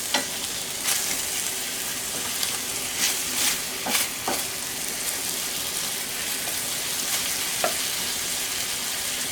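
Scallops sear in a hot pan, giving a continuous dense sizzle and crackle with occasional louder pops, close and steady throughout with no speech.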